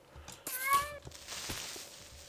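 Cat in Minecraft giving one clear, mid-loud meow in the middle, with game noises around it.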